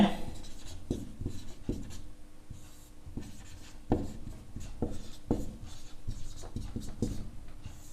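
A pen writes a maths solution on paper, with soft continuous scratching strokes and light taps at irregular intervals, close and quiet, with no speech.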